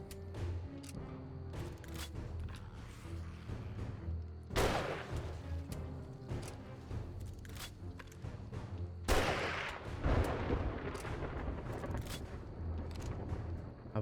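Gunfire in the 7 Days to Die video game during a blood moon, with repeated sharp shots cracking at irregular intervals, two especially loud bursts standing out, over a steady low game background.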